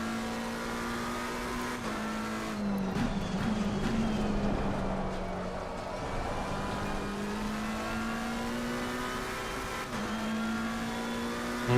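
A race car lapping Watkins Glen in the ACC racing game, engine droning steadily and climbing through the gears, briefly dropping on shifts and braking, loud and continuous from the cockpit with no talk.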